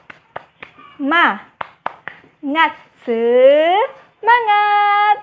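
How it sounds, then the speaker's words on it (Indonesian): Pupils in a primary classroom lesson clap a few sharp, rhythmic beats between short chanted vocal calls, ending on a long, sustained shout. Clear and close. "Kita cek semangatnya dulu, oke? Oke. Tepuk semangat."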